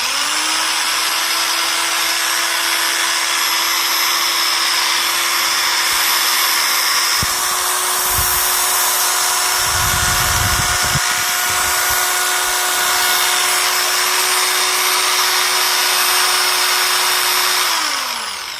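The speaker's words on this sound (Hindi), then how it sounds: "अब आप यहाँ पर इस बटन को दबा देंगे पूरी तरह से और इसके साथ में इस बटन को दबा देंगे तो ये लगातार घूमता रहेगा" A Buildskill electric drill with a keyless chuck whirs at a steady high-pitched whine, running continuously and close for about eighteen seconds, with a few low knocks partway through before it winds down at the end.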